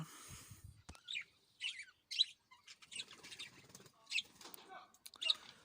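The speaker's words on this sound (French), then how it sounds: "il y a de la colombe diamant et de la perruche ondulée qui sont arrivés ici" Small birds in an aviary, diamond doves and budgerigars, give repeated short chirps and calls with a few bursts of wing flapping, close by, while a person talks over them.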